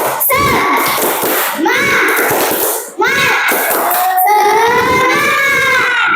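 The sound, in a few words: students doing the tepuk semangat clapping routine again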